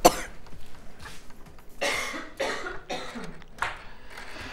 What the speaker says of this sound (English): I'm just going to have a little cough.